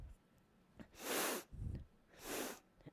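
Two sharp, forceful nasal sniffs during a Pilates mat breathing exercise, spaced about a second apart with a quieter breath between, close and clear with no talking over them.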